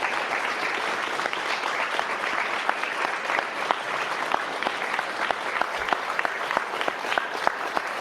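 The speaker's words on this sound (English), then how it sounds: "Okay, enough of the clapping." Sustained applause and clapping from an audience at a political speech by Justin Trudeau runs at an even, moderate level with no break.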